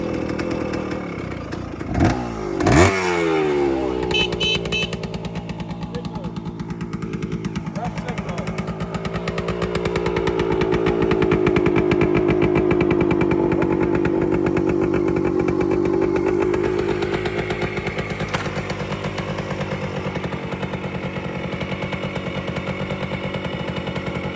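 A 1976 Kawasaki KE 125 motorcycle engine idles loudly and steadily up close while warming up, its revs rising and falling with a brief blip early on, with speech over it.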